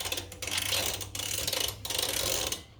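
A ratchet wrench clicks in rapid strokes while loosening the axle nut on a Harley motorcycle, close up, in three sustained bursts separated by short pauses.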